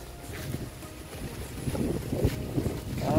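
Blustery typhoon wind rumbles against the microphone, a continuous low roar that swells slightly in gusts toward the end.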